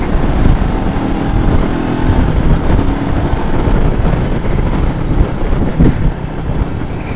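Royal Enfield Meteor motorcycle cruising at speed on the road, a continuous loud engine drone mixed with heavy wind rush and road roar from the rider's position, steady throughout with no talking.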